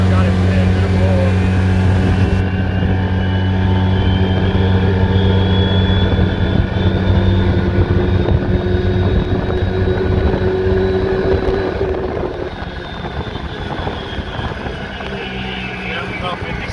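A 2013 Polaris RZR 800S side-by-side fitted with Mother Clutcher clutches and a new Gates belt runs at full throttle, its engine droning loud and steady close by with a whining rise, then easing slightly near the end.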